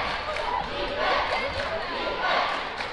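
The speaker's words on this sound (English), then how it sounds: "Crowd chanting defense." Basketball crowd at a high school game in a gym, chanting defense as a loud, sustained roar with rhythmic swells throughout.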